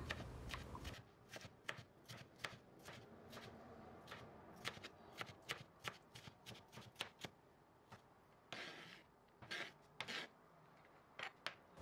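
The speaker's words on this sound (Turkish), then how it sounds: "Minik küpler halinde kesmeye devam edelim." A knife chops potato into small cubes on a cutting board, a run of quick, close, crisp cuts in an irregular rhythm with short pauses, no talking.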